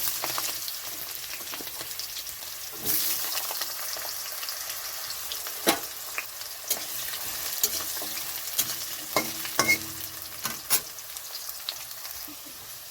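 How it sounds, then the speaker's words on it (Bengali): Potato, whole cumin, bay leaves and green chilli frying in hot oil, a strong continuous sizzle punctuated by scattered sharp pops and spatters and a few scraping stirs of the pan. "তেলটা গরম হয়ে গেছে তো এখানে আমি দিয়ে দিচ্ছি গোটা জিরে তেজপাতা এখানে দিয়ে দিচ্ছি কাঁচা লঙ্কা আলু"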